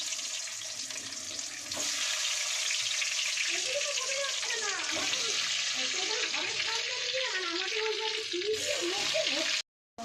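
Potatoes added to a hot wok in a home kitchen, a loud sizzle rising after a quieter start and continuing with bubbling and stirring, closely heard, ending in a brief cut of silence.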